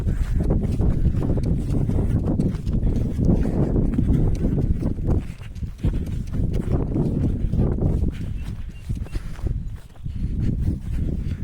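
Bay horse walking outdoors on a rainy day, a steady run of close hoof clip-clops in an even four-beat rhythm with no speech over it.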